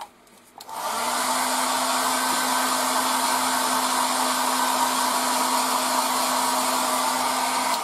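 A steady, hissing airbrush sprays paint onto the wheels of a 1:72 scale model after a brief start, continuous and close with a faint hum underneath.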